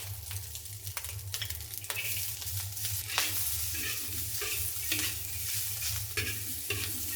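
Char siu and onion stir-fry in a wok with a constant oily sizzle, broken by repeated sharp spatula scrapes and clatters in an uneven rhythm, close and continuous.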